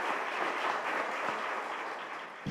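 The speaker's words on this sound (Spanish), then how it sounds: "Yo les pediría que les diéramos un fuerte aplauso" An audience at an international forum on companion animal welfare claps, making a steady, dense stretch of applause that holds evenly throughout.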